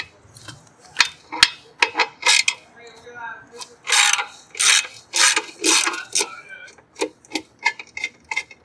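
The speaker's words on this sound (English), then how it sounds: "You're going to do that with your 7/32 hex head, your ratchet wrench." A ratchet wrench with a 7/32 hex head backs out the mount bolts on a Harley Dyna Fat Bob, giving quick clicking bursts in irregular runs, close and crisp, with some louder rasping strokes mixed in.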